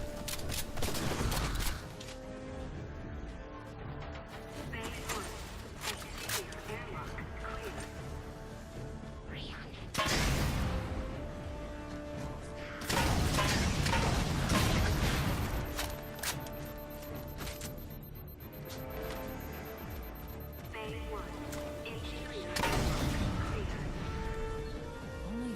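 Gunfire in Halo 4 on Legendary: several loud bursts of weapon fire and impacts break up a cluttered game mix, with a large blast around the middle and shorter shots near the start and end.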